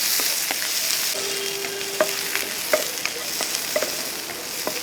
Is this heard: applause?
no